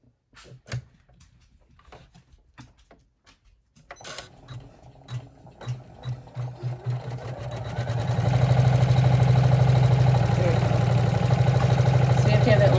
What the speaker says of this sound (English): We have to have that placement line.